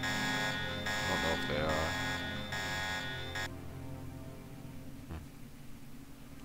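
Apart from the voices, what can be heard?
alarm buzzing in Deus Ex, from a video game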